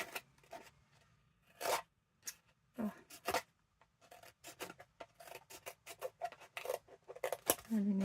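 Scissors snip and trim craft material in a series of short, close, irregular cuts and rustles, with a low background hum and no talking.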